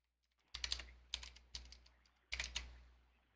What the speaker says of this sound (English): That's what I'm typing here.